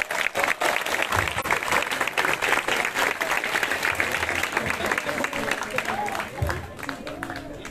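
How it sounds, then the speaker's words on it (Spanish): Sustained, dense applause from a crowd at a municipal political swearing-in ceremony in Amatitlán, loud and steady throughout with some voices mixed in. "Fuerte el aplauso, por favor."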